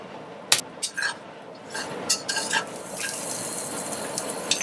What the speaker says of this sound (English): Now in the same pan, I'm going to fry half onion until it's brown.